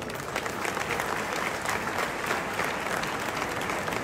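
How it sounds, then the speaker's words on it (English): An audience applauds a top-performing Lagos State University student at an event with the governor, a dense, steady roar of many hands clapping that fills the whole stretch without pause. "I think she deserves a round of applause."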